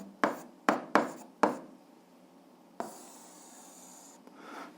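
Pen strokes on paper while an algebra exercise is worked out: four quick scratchy marks in the first second and a half, then a longer, softer stretch of continuous writing, close and quiet with no voice.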